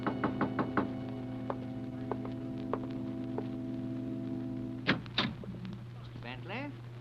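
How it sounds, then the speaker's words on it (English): Several sharp knocks on a door in a 1940s radio suspense drama, a quick cluster of raps followed by a few spaced single knocks over a steady low hum, then brief voices near the end. "there was a knock on the door"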